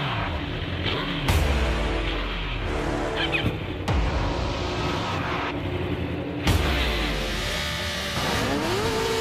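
Superbikes such as the Panigale, R1, ZX10R, S1000RR, Fireblade and GSXR 1000 scream off the start line, their loud high-revving engines rising in pitch through rapid gear changes and overlapping as the pack accelerates away.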